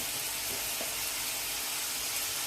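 Mustard seeds sizzle in hot oil in a pan with onion, tomato and a little turmeric while cucumber dosa is prepared, giving a constant close frying hiss with a faint crackle near the start.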